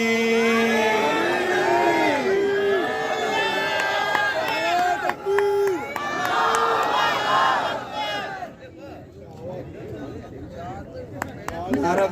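A protest sit-in crowd in Gwadar chants slogans together in loud repeated call-and-response bursts, voices overlapping and fading toward the end.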